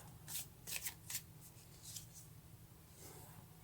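Tarot cards being shuffled by hand, several quick soft riffling bursts close up and very quiet over a low background hum.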